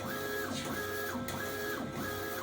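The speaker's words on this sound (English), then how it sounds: "And then it quickly is now, it's ripping and printing." A Procolored DTF printer runs a print job, its print head sweeping back and forth in a steady rhythm of repeated whirring passes over a constant mechanical hum, close and alone.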